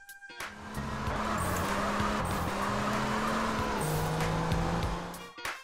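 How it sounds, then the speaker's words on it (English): A car engine in Grand Theft Auto: San Andreas, modded with a turbo, whines at high pitch with shifting gear tones, and a turbo-like hiss runs over the steady drone. "you can even add turbo, which has sounds too"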